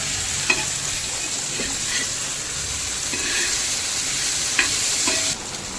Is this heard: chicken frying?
yes